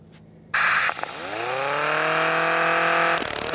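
A power tool spins up with a rising whine and cuts into a steel axle ring during front ball joint work on a 2001–2003 Lexus ES300, a loud sustained grinding screech.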